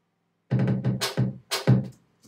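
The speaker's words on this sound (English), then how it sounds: "So the drum fills now sounds like this." Drum fill with its kick drums picked out, leaving a brief burst of close, dense, tonal thumps and hits, loud and unaccompanied.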